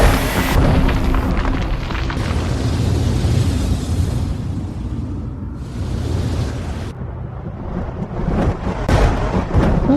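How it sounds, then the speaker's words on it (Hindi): Thunder rumbles from a clear sky in an animated Aladdin cartoon, a loud, continuous, low roar with swelling bursts that fills the whole stretch with no voices. "आसमान तो साफ है, तो फिर ये बादल का गरज रहे"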